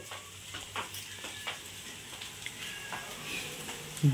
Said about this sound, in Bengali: ডিম আলু ভাজা।